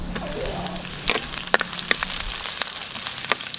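Garlic and onion sautéing in a pan, a close, crackling sizzle with sharp pops and spits scattered through a steady frying hiss, no voices.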